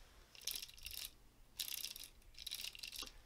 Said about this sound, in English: That is the sound of the speed regulator in the center bouncing off of the two big gears